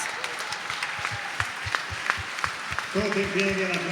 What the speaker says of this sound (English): All standing up and standing ovation to applaud a great team.